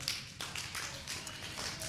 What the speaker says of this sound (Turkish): Aferin bir alkışlayalım